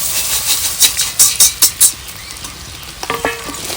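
Puffed rice is tipped and stirred into a pan of fried egg and onion, giving a run of loud rhythmic rustling scrapes, then a quieter pause and a short burst of sizzling stirring, with no voices.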